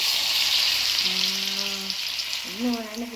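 Chopped onions frying in hot oil, a steady close sizzle that runs throughout, with two short hums or voice-like tones over it.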